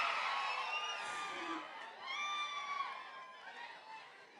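A crowd cheers, whoops and shouts to welcome actress Meenakshi Chowdhary at the Mechanic Rocky movie glimpse launch event. The loud, dense roar of many voices fills the space and eases off slowly.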